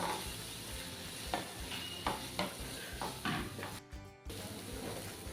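Grated Indian salmon (rawas) roe stirred into hot oil in a pan, a steady sizzle broken by repeated scraping strokes of a spoon, close and moderately loud, with a brief drop near the end and no talk.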